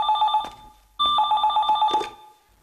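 An old-style telephone bell rings indoors in two bursts separated by a brief pause, clear and close with no voices.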